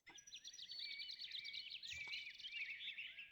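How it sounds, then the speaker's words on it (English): A robin sings in Farming Simulator 17, a quiet run of quick high warbling phrases that continues without a break, with one short low thump partway through and no talk. "let's get in close and we'll hear what a robin sounds like"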